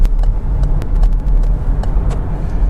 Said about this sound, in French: Et déjà, on a une voiture qui part d'un coup.